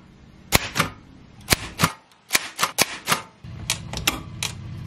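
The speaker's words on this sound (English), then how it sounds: "I also got a new ribbon for my typewriter" A typewriter is typed on in uneven bursts of sharp keystrike clacks, close and loud, with short pauses between the runs and a mechanical rumble near the end.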